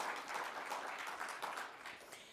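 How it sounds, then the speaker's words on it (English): Applause from the audience at an auto theft summit, faint and distant, a continuous patter of clapping for a couple of seconds with no voices over it. "that deserves a round of applause."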